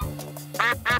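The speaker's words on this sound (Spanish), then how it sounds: "Pato." A cartoon duck gives two short, nasal quacks in quick succession, close and clear, after a brief low-level lead-in.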